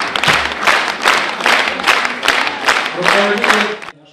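Enthusiastic audience ovation at a charity violin concert in Kremenchuk, a dense sustained wave of clapping rolling on for about four seconds before cutting off abruptly.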